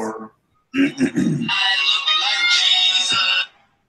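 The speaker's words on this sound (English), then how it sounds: "That's my ringtone." A loud electronic ringtone plays a bright, busy melodic tune for a few seconds, with a short voice just before it starts.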